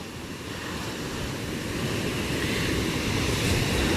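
Ocean surf rolls and breaks in a continuous wash, mixed with wind rumble across the microphone, growing slightly louder over a few seconds with no voices.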